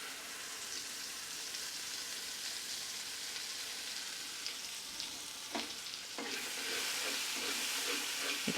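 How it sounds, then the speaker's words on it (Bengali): Spice paste for matar paneer fries in a pan, a steady soft sizzle with a few scraping stirs near the end, close but quiet. "সেই পেস্টটা আমি এর মধ্যে দিয়ে দিচ্ছি।"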